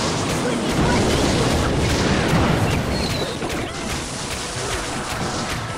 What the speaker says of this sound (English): we're going to get a good rocket onto all of this